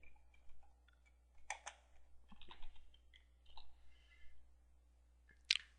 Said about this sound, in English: we could type in gardening